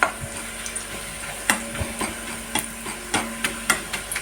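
Onions frying in a pan for a meat curry, a steady close sizzle broken by several sharp clacks of a spoon or spatula stirring against the pan.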